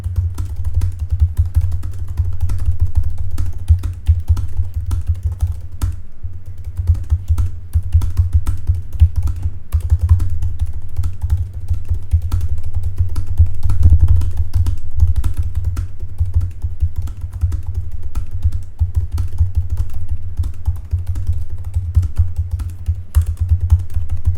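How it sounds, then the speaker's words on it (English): Typing on a MacBook keyboard, picked up by a HyperX SoloCast microphone: a steady stream of soft key clicks over a constant low hum, continuing evenly throughout with no pauses or talk. "now I'll be repeat the test by using my MacBook keyboard"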